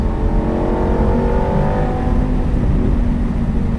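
A Lamborghini Performante Spyder engine accelerates hard in fourth gear, a loud, close, continuous roar whose harmonics climb steadily in pitch throughout, with no talking.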